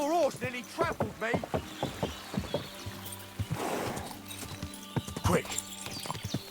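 Horse in Kingdom Come: Deliverance II clip-clopping with rapid hoof beats, then a loud whinny partway through, close by; someone talks over the hooves.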